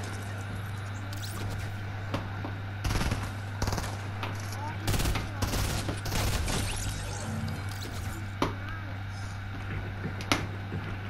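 Video game gunfire crackles in scattered bursts and single shots, some close and sharp, others distant, under a steady low hum and voices of players chatting.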